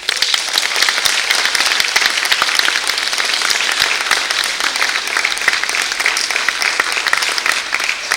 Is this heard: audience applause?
yes